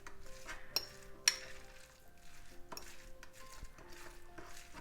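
Sugar, egg and cottage cheese stirred together in a bowl for syrniki batter, a spoon clinking and scraping against the dish in quiet, irregular strokes with a few sharper taps, under faint background music.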